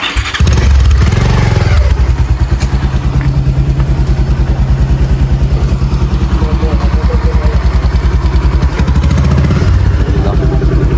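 Motorcycle engine running loudly and steadily with a throbbing, pulsing beat, starting up near the beginning and holding at close range throughout, with faint voices underneath.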